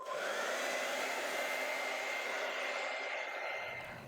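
A hair dryer blows steadily to dry an acrylic painting of mustard fields at sunset, a close continuous whoosh with a faint motor whine that holds for about four seconds before easing off.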